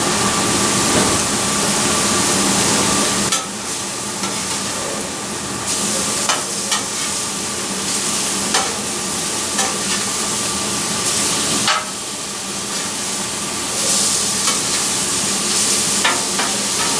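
Steak sears on a hot Griddle Master griddle top with a loud, steady sizzle and crackle that runs throughout, swelling in brief bursts with no one talking.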